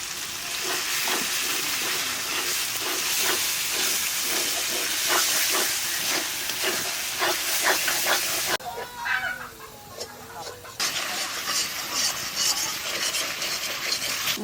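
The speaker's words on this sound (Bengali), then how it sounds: "মশলাটা একটু কষাই নিলাম" Spice masala with salt, turmeric and Kashmiri chili powder sautéing in a pan for tiger prawn curry, a steady loud hiss and sizzle with crackling pops throughout, briefly dipping and easing before the frying noise returns.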